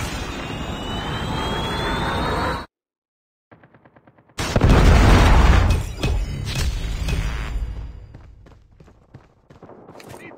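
Call of Duty Mobile battle: a loud roaring blast of automatic fire and explosion cuts off abruptly, followed after a gap of faint ticking by another heavy boom and rumbling that tails into scattered bursts.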